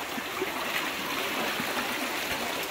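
Fast-flowing creek flooded after heavy rain during flash floods in Oklahoma, a steady loud rushing and gurgling of water close by with no voices.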